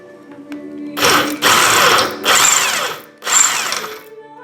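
A power drill with a 7/32 bit boring out 3/16 rivets in three loud, close bursts, each whining for about a second with brief pauses between and a faint hum before the first.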